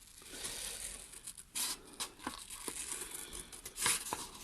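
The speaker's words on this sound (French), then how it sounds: "avec mes ciseaux, je vais tout simplement découper mes nuages" Scissors roughly cut paper clouds for a scrapbook background, with quiet close snips, crinkles and tearing-like rustles scattered irregularly over a faint steady hiss, no speech.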